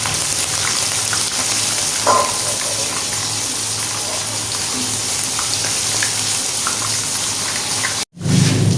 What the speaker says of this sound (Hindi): बिल्कुल मीडियम फ्लेम पर हम इसको फ्राई करेंगे और इस तरह से हमने इसके ऊपर ऑयल डालना है।